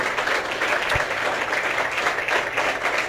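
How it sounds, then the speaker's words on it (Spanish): Church congregation applauding during a Spanish-language worship service, loud continuous clapping filling the room, dense and sustained, with a faint murmur of voices. "Dale ese aplauso al Señor, dale gracias."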